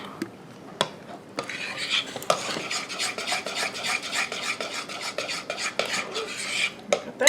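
A spoon scrapes and clinks around a bowl, stirring flour into strawberry cobbler batter, making a steady, close rhythm of rubbing strokes with occasional sharp taps against the side.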